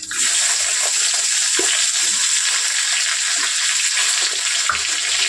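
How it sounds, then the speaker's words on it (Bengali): Eggplant frying in hot oil in a pan, a loud, steady, close sizzle with a dense hiss throughout and a few faint clinks of stirring, no voices. "আগে বেগুনটা ভেজে নেবো"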